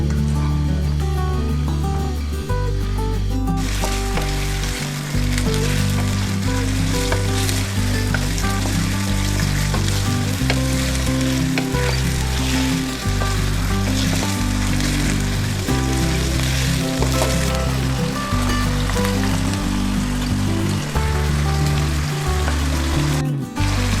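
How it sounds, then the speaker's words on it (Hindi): Chicken frying in ghee as a dense, continuous crackling sizzle heard up close, steady and loud throughout, with a sustained low tonal hum running underneath. "घी में हम चिकन को फ्राई करेंगे।"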